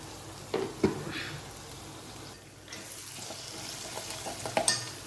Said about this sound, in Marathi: तर चांगलं आपला मसाला भाजलेला आहे